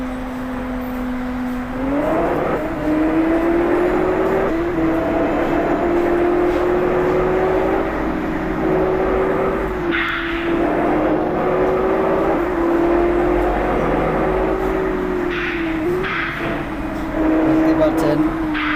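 A Toyota Hiace Commuter van drives in the Bus Simulator Indonesia game. Its engine drone climbs in pitch as it accelerates, then holds a steady hum with small gear-like dips. The engine runs continuously under a person talking.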